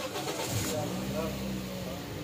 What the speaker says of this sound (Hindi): अभी गाड़ी को सेल्फ लगाते हैं, ये स्टार्ट हो जाएगी।